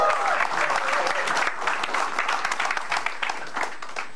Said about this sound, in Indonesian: kita beri tepuk tangan untuk Jui.